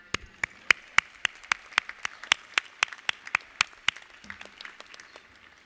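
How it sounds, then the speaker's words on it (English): Audience applause at a university commencement ceremony, heard as a steady, evenly spaced run of crisp claps, as if only a few hands are clapping in time. The claps are moderately loud and nearby, with no voices. "a special round of applause for our dads as well"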